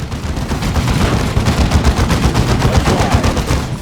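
Rapid automatic gunfire from a battle in Dawn of War II crackles loud and continuous, with dense overlapping bursts and no pauses.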